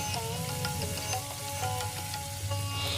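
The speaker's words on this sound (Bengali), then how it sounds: "ফোড়ন থেকে হালকা গন্ধ বেরালে এর মধ্যে দিয়ে দেবো অর্ধেকটা কেটে রাখা টমেটো আর দেব যে মশলাটা আমি বেটে রেখেছিলাম সেই মশলা" Tomato and a ground spice paste sizzle steadily in hot oil over tempered spices, a dense continuous crackle with scattered pops, close and fairly loud, with no talking.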